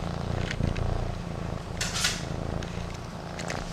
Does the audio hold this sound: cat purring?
yes